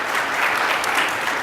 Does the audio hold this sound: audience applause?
yes